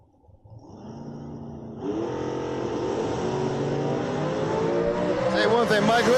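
Drag race at a bracket event, a vinyl-top Chevrolet Nova against a Pontiac Firebird, with engines building from a low idle into a loud, rising roar as the cars launch and accelerate, while an announcer talks over it.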